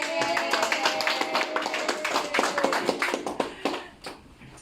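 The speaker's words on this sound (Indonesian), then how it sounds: "Kita berikan tepuk tangan." A small audience claps at a health testimonial gathering, producing a close, brisk patter of handclaps that grows sparser and fades out in the final second.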